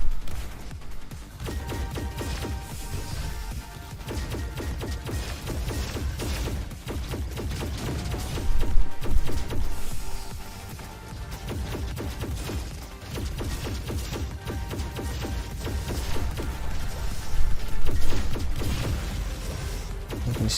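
Rapid pistol fire in the robot shooter Roboquest, dense bursts of sharp cracks and metallic impacts pounding almost continuously, with louder surges of crashing hits midway and near the end.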